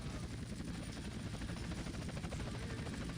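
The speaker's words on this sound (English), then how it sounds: "The chopper is just kinda hanging out." A police helicopter in the video game GTA San Andreas hovers overhead, its rotor chopping in a fast, steady thump that runs continuously and fairly loud, with no talk.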